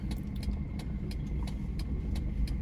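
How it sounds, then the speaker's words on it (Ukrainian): A running car starts to pull away on a driving-test route in Uzhhorod, its engine a steady low rumble close by, with faint, regular ticks above it. "У нас автомобіль вже заведений, ми включаємо передачку, показчик і знімаємо ручник."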